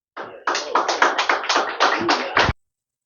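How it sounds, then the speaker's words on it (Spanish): A church congregation claps together in praise of Jesus, a dense burst of many hands lasting about two seconds and ending sharply, with no talking over it. "Palmas a Jesús."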